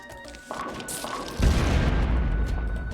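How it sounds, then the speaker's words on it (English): Explosion in the video game PvZ Fusion, a heavy deep boom that swells in and holds as a loud rumbling wash after a quieter lead-in, with no talking. "I managed to hit the explosion"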